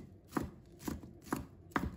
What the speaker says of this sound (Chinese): 把它切成细丝。 再切成小粒。